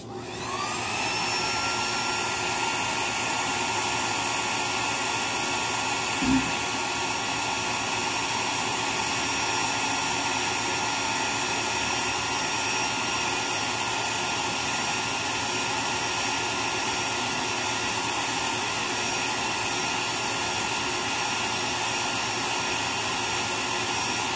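A hair dryer runs without a break while drying the sails of a 1/130 Cutty Sark model ship, giving a loud, steady whirring rush that starts right away and holds for over twenty seconds, with one faint knock near the start.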